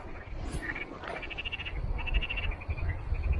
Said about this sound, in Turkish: Evet, kurbağa sesleri gelmeye başladı.